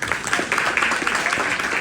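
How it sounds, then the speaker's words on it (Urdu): Applause for children at an Iqbal poetry competition, a steady patter of clapping from an audience that runs for about two seconds without a break, fairly loud and close. "تو یہ ان کے لیے سب کے لیے بہت ساری تالیاں"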